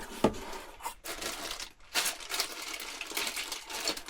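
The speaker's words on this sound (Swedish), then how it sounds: "Nu ska vi öppna paketet." Plastic packaging from a motorhome water pump kit crinkles and rustles in close, irregular bursts as the package is opened, with a sharper crackle near the start.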